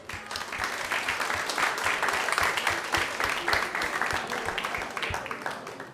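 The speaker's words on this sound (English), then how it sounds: "So please give a big round of applause." An audience at a Sunday Feast program in a temple hall gives a big round of applause: sustained, moderately loud clapping from a crowd that swells, then tapers off.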